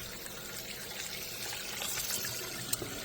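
Water runs steadily from a tap over raw pork belly being washed, a soft continuous splashing rush, fairly faint and alone.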